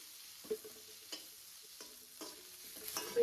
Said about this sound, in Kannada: ಈಗ ಚೆನ್ನಾಗಿ ಫ್ರೈ ಆಗಬೇಕು